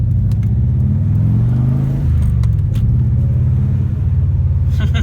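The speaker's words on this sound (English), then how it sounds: "The turbo noise is my favourite, I think." Inside a twin-turbo car on the move, a loud, close engine rumble rises and falls through revs and gear changes, with light rattles in the cabin and no talking.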